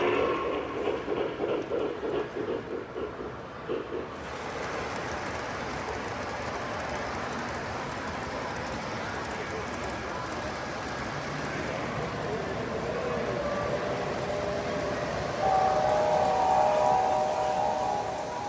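Large-scale model trains roll along the track at a model train show, with a continuous whirring rumble, a short pulsing start, and a thin horn-like tone sounding near the end.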